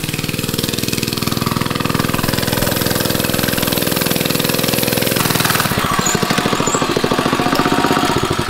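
A mini bike's small engine runs steadily and close, a loud rapid chugging that shifts to a harsher, faster knock partway through, with no talk.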